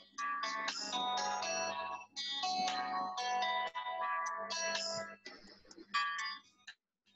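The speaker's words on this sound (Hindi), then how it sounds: "ये किसका फोन बज रहा है प्लीज उसको साइलेंट कर लीजिए।" A mobile phone ringtone plays loudly in a classroom during an SEO lesson, a repeating melodic pattern of chiming tones in bursts that carries on for several seconds before cutting off.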